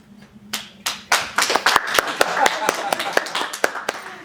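An improv show audience claps in a loose, building round of applause, starting with a few scattered claps and swelling into quick overlapping hand claps.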